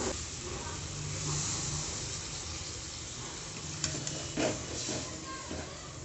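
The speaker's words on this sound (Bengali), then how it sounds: "হালকা একটু নেড়ে চেড়ে নেবো আলতো হাতে" Paneer in spiced masala sizzles steadily in a pan with a constant frying hiss, while a few gentle stirring scrapes and soft clinks rise briefly near the end, close by and without talk.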